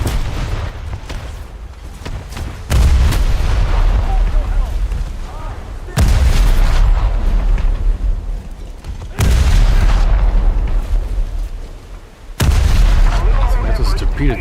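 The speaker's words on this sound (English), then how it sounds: "That was a torpedo detonation" Torpedo detonation and heavy gunfire in a naval video game with British frigates: four loud booming blasts land at roughly three-second intervals, each followed by a rumbling decay. Someone talks over them.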